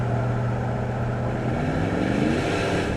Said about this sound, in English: You really hear more motor than you do exhaust.